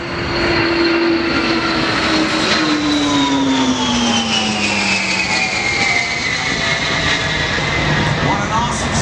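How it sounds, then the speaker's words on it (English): Old aircraft engines roaring past at an air force base air and space show, a loud sustained drone with falling Doppler tones as the planes pass, with an announcer's voice over it. "And listen to the sound of these old engines."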